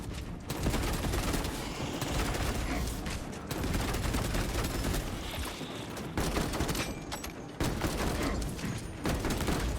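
Heavy bolter fire in the video game Space Marine 2, a loud, dense stream of automatic gunshots running almost the whole time, broken by a few brief pauses between bursts.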